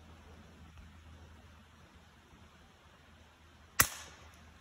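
A single sharp gunshot cracks outdoors at a cabin in December, loud and sudden against a quiet hiss of open air, with no speech around it.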